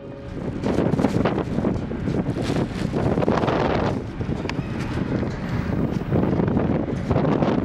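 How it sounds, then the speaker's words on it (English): Strong cold wind on a ship's deck buffets the microphone nonstop, a loud rough roar with gusty surges and no voices. "it's fucking windy on the ship and cold as well"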